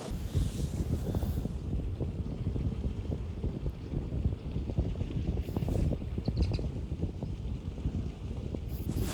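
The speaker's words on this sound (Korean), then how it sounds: "날씨 변덕이 요즘에 너무 심한 것 같아요. 바람도 많이 불고." Strong wind gusts across a fishing pond at Majeon fishing ground during crucian carp fishing, a loud, continuous blustery rumble buffeting the microphone with brief brighter rustles, and no one speaking.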